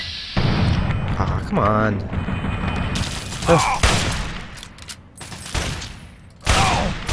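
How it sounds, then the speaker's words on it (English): Hunting rifle shots in the game Fallout 3 crack out as several loud, sharp bursts spread across a few seconds, mixed with game noise while someone talks over them. "Let's use the hunting rifle"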